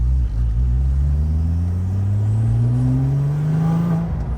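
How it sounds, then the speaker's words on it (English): A stock Porsche 911 Turbo with an aftermarket exhaust revs up in one long, loud rising sweep, the deep engine note climbing steadily before dropping off. "the way this car sounds for being a stock car with an exhaust"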